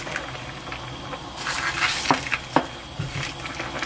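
Crab goes into a pot of boiling crab soup broth, a steady bubbling hiss that swells as the pieces drop in, with a couple of sharp splashes and clunks close by.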